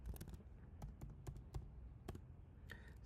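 Computer keyboard being typed on to enter a password, a quiet run of close, sharp key clicks in uneven bursts with short pauses between them.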